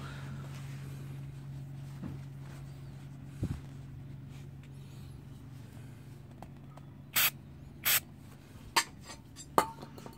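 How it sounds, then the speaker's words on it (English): Four short bursts of aerosol cleaner sprayed close up onto the bolts of a GY6 scooter, spaced a second or so apart, with a low hum in the background. "We're gonna go and give it a good spray on the bolts."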